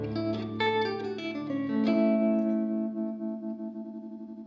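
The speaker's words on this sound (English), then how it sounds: "There's a little bit of trem sometimes." Electric guitar run through a tremolo effect alongside distortion and chorus, a few picked notes and chords ringing out with a clearly pulsing, wavering volume as the sound decays, no voices.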